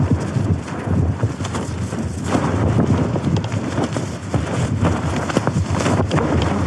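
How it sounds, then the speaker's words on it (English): Strong wind gusting across an exposed valley campsite, a loud continuous broadband roar with buffeting against the microphone throughout and no voices. "So all the wind is just coming straight this way."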